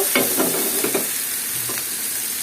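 Pointed gourd and potatoes tossed with spices in a pan, a close bright sizzle with a cluster of quick spatula scrapes early on, then a steadier hiss.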